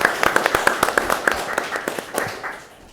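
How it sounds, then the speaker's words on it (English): Audience applause for a student presenter at a youth business plan competition, sharp individual claps near the mic over a crowd's clapping that slowly fades out. "Round of applause for Rees."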